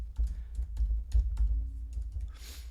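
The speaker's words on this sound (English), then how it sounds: "I will just start typing" Rapid keystrokes on a computer keyboard, a dense run of light clicks close by with a faint low hum underneath and no talking.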